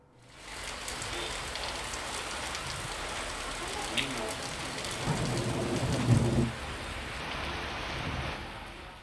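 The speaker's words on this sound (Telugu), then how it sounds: "వికారాబాద్ జిల్లాలో పలుచోట్ల భారీగా ఈదురుగాలులు, ఉరుములు, మెరుపులతో కూడిన చిరుజల్లులు కురిశాయి." Rain falls steadily and fairly loud in Vikarabad district during a storm with gusty winds and thunder; the wash of drops runs throughout, and a low rumble of thunder swells near the middle.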